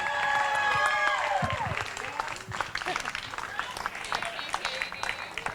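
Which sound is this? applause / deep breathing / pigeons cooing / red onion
applause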